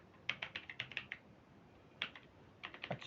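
Bursts of keystrokes on a faulty computer keyboard, a quick run of clicks followed by a pause and then a few more scattered taps, fairly quiet and close with no talk.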